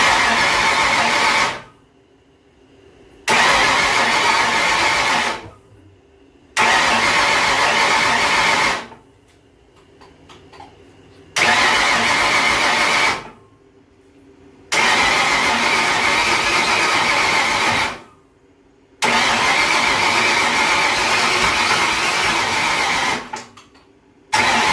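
A big block engine swapped into a Mazda Miata roars in long, loud, rough bursts, revving hard for a few seconds at a time, then dropping back to a lower idle between pulls.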